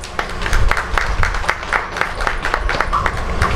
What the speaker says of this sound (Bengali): গোলুর জন্য কিন্তু একটা হাততালি